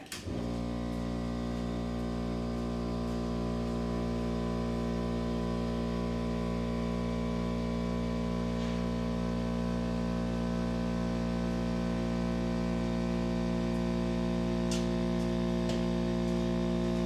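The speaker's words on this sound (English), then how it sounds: "I turn my air compressor on." An air compressor runs at home in a tire-mounting setup with a steady, loud hum and motor drone, continuous and unbroken, with no talking.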